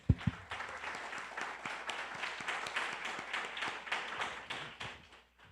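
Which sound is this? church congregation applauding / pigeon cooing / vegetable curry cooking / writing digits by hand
church congregation applauding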